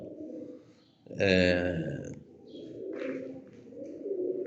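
Pet birds kept in a room: one close, loud dove-like coo rises over a low, continuous background of softer bird murmurs, followed by quieter calls.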